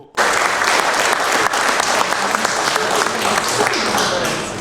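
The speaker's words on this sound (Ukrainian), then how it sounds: "всі депутати оплесками подякували генералу та його команді" Sustained applause fills a regional council session hall as deputies of the Zakarpattia oblast council clap together, a dense, even wash of hands from start to finish with no pauses.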